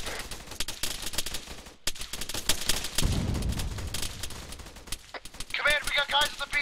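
Airsoft guns laying down suppressing fire in a skirmish, with rapid bursts of sharp shots crackling close by, overlapping with voices and radio-style chatter.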